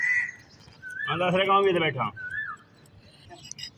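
An Asian koel gives two brief rising whistled calls from nearby, one under a stretch of talking and the other mostly alone.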